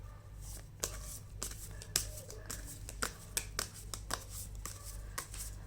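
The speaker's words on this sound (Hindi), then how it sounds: "आप लोग अगर शफल नहीं देखना चाहते तो आप आगे कर सकते हैं वीडियो।" A deck of tarot cards being shuffled close up: a series of sharp riffling snaps and soft slaps recurring at an irregular rhythm over a low steady background hum.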